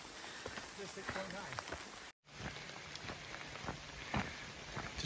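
Light drizzle pattering steadily in Appalachian Trail woods, a soft continuous hiss of rain with scattered drops and footsteps, one brief dropout midway, and a voice speaking over it.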